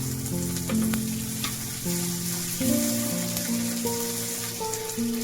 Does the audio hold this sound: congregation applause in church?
no